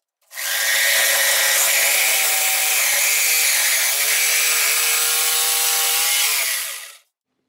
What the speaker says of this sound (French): Vous pouvez ensuite couper la base avec une scie sauteuse ou une scie à main.